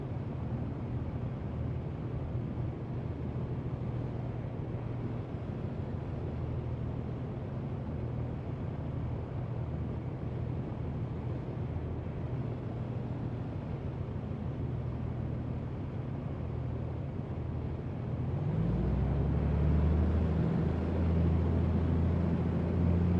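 A light aircraft engine runs at a steady drone throughout, a constant low rumble with broadband hiss, rising in pitch and loudness near the end as power increases during a run-up before a departure from Meadows Field.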